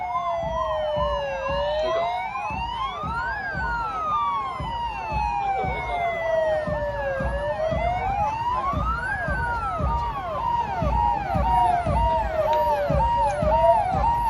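A Vajra police tear-gas vehicle at a Republic Day parade sounds its siren: a loud, steady electronic wail sweeping up and down in long slow cycles, with an engine rumbling beneath it, continuous for the whole stretch.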